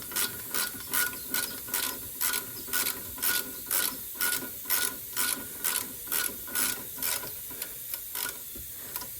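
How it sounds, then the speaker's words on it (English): A ratchet tightens the brake caliper bolts on a Lexus CT200h, giving a steady run of about twenty evenly spaced clicking strokes up close, with no talk. "you can then use your ratchet"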